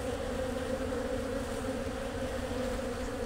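Thousands of honeybees in a starving hive hum around the open box, a steady, continuous droning buzz, close and unbroken, with no talk.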